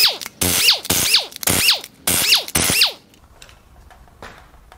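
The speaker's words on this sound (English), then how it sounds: "Now it's time to fire the head bolts out and pull the cylinder head." Power tool loosening cylinder head bolts on a Toyota 4.7L 2UZ V8 engine during teardown: five rapid bursts, each ending in a rising whine, close and loud, then quiet.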